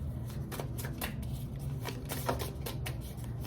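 Oracle cards being shuffled by hand during a tarot-style reading, a soft steady riffling and flicking of card stock, close and quiet, with no talking.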